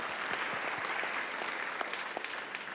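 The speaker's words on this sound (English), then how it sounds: "I think we're going to applaud for that." A crowd applauds steadily at the 77th World Health Assembly, the dense clapping holding at an even level throughout.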